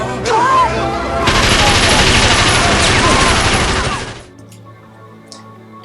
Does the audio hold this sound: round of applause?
no